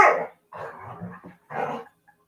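A dog barks in three separate bursts with short gaps between them, close and moderately loud in a quiet indoor room.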